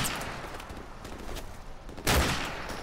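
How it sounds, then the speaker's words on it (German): Bursts of Call of Duty: Modern Warfare gunfire crackle at a moderate distance, ending in a louder, sharper volley near the end. "Es wird immer geschossen, das höre ich."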